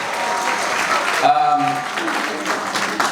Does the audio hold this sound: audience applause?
yes